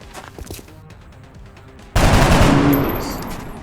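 Video game gunfire in XCOM Enemy Within: quiet ticking background sounds for about two seconds, then a sudden loud burst of automatic fire that fills the remainder and slowly tails off.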